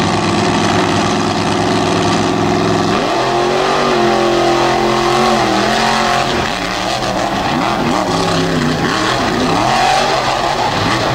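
Drag racing cars roar off the line at a drag strip, loud revving engines rising in pitch as they launch and accelerate down the track, with no talk over them.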